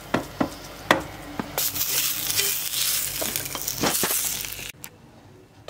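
Hot tempering poured over chana saag sizzles loudly, with a burst of frying hiss, sharp clinks and scraping as the greens are stirred, then cuts off abruptly near the end.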